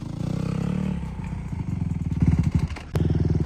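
Dirt bike engine chugging and surging unevenly as a beginner rider works the clutch, the revs rising and dipping in short bursts with a brief cut near the end, close by and without talk.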